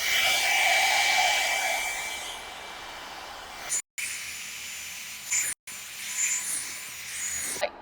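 A hair dryer blows hair dry in a steady, loud rush of airflow that runs continuously, broken by two brief dropouts partway through.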